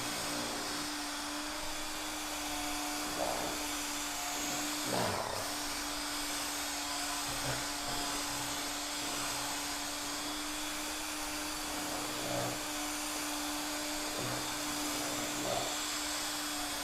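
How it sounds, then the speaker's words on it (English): An electric mixer churns drywall mud in a bucket with a steady motor whine and broad noise, while soft scraping bursts recur every couple of seconds as the paddle works through the mix. "So I'm going to get my mixer, and I'm just going to mix that up."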